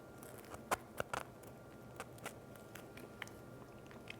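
Buttered buttermilk bread made in a bread maker is bitten into up close, giving a few soft crisp crunches followed by quiet chewing in a still room.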